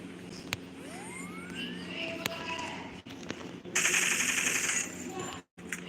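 Rapid automatic gunfire in a shooting video game, with a few sharp individual shots and a burst of bright crackling, all at close range over steady game ambience.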